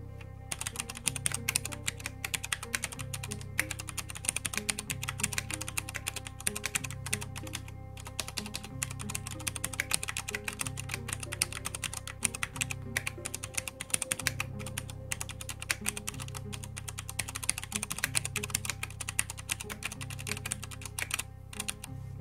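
Steady typing on a Ducky One 2 SF mechanical keyboard with Cherry MX switches, a close, continuous stream of crisp key clicks and clacks in fluid bursts with brief pauses, heard alone.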